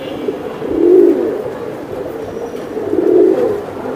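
Large pigeons coo in two low, rolling bursts about two seconds apart, close and fairly loud over a steady background hum.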